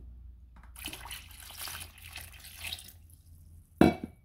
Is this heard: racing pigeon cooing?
no